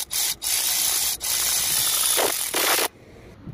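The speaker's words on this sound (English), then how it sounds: "Just going to open that little bolt there, it's a T30." A ratchet loosens a small T30 bolt on the DPF differential pressure sensor of an Audi A6 2.0 TDI. It makes a close, loud, continuous rasping click in several long strokes with short gaps, and no voices.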